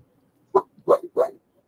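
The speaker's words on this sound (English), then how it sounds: "I think Brandi had a dog barking in the background" Dog barking during an online meeting, three sharp barks in quick succession, the last two close together, fairly loud against an otherwise silent background.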